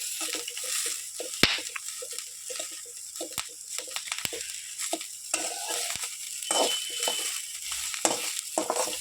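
Green chillies frying in oil in a pan for Telugu-style chutney, a steady close sizzle and crackle with occasional sharp pops and stirring clatter throughout.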